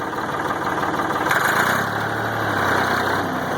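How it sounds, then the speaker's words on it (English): A backhoe's engine idles steadily nearby, a constant low rumbling drone with a slight knock and a brief rise in intensity partway through, no voices. "I'll use the backhoe in a second to do the same thing."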